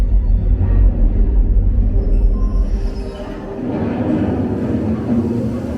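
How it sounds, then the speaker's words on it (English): A loud, deep mechanical rumble of a model ore train running close by in a mining show in Vancouver, heavy at first and then easing into a steadier whirring drone. "And here comes the ore train."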